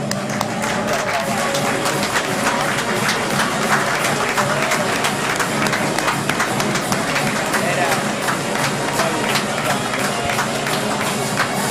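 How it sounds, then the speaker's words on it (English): A council meeting audience gives a standing round of applause, dense steady clapping that fills the room throughout, with chatter and voices mixed underneath. "let's everyone stand up, give them a round of applause as they exit and go out"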